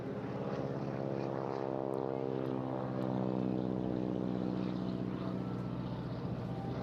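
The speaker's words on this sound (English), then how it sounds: "that lovely roar off the big Hamilton standard propeller there coming from the Pratt & Whitney" A Stearman biplane with a Pratt & Whitney radial engine and big Hamilton Standard propeller at an airshow, giving a sustained droning roar with rich harmonics that shifts slightly in pitch as it passes, moderately distant.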